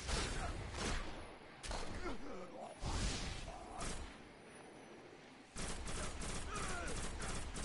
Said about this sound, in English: Fucking shotgun.